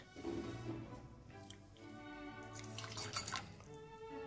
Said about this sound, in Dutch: Het gekookte water, dat voeg je toe aan het kommetje met suiker.